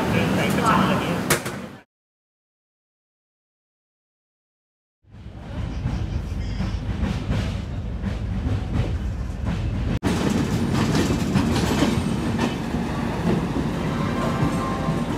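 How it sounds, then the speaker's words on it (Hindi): The Avadh Assam Express rolls out of Delhi Junction with a steady, loud rumble heard from inside the train. The sound cuts out for about three seconds, then the heavy running noise returns and carries on evenly. "करेक्ट 7:25 पर वाइट ट्रेन दिल्ली जंक्शन से डिपार्ट हो चुकी है।"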